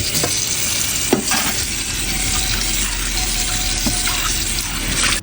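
Food stir-fried in a wok at home sizzles loudly and steadily, with a few sharp scraping clanks of a spatula against the pan and no voices.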